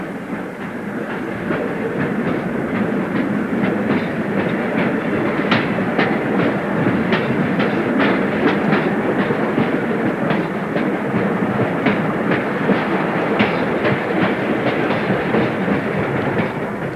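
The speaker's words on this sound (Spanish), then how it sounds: "circula un tren en accidentada marcha, atravesando túneles y ciñéndose a infinitas curvas" A train travels the winding, tunnel-laden railway through the valley toward Machu Picchu, its wheels clacking rhythmically over rail joints beneath a steady, loud rolling rumble, heard close and continuous throughout.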